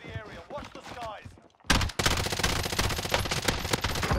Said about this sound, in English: It felt like everyone was shooting that kid, not just us.